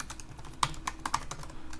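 Keys on a computer keyboard tapped in a short, uneven burst while login details are entered, a few sharper clicks standing out over a quiet room hum.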